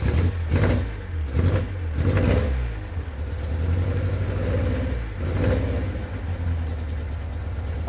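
A 1955 Austin Healey 100S tribute engine cold-starts after sitting outside for a long time, with several loud throttle revs rising and falling, then settling into a rough, lumpy idle with another blip near the end.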